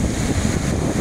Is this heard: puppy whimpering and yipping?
no